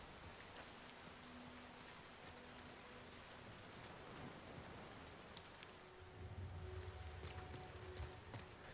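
Rain in the video game The Last of Us Part 2, a faint, steady hiss of falling drops on surfaces with a low rumble building toward the end, no voices.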